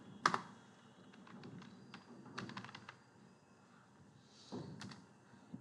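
Email address being typed on a computer keyboard, producing quiet clusters of close key taps with irregular rhythm and a few louder single strokes in a hushed room.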